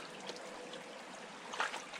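Creek water flows steadily beside a large concrete culvert, a faint continuous rushing hiss with no voices.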